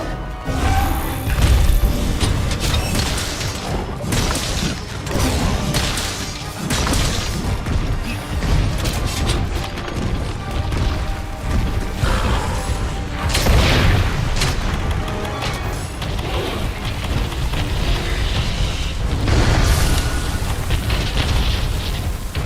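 Heavy bomb explosions in the video game Monster Hunter World, loud and dense, with booming blasts and crashing impacts rolling almost continuously through a chaotic monster fight, with a few stronger bursts standing out.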